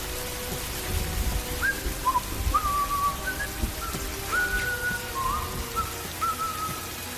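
A short, casual whistled phrase of a few rising and gliding notes, heard over steady rain pattering and a dull low rumble.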